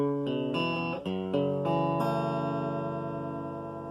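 Bass guitar notes plucked one after another through an amplifier, each attack ringing out, the last note sustaining and slowly fading.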